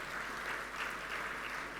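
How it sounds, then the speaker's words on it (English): An audience claps at a conference welcome address, a steady, even patter of many hands sustained throughout, moderately distant and without talk. "Let us big round of applause for Vijay Bhai Karya"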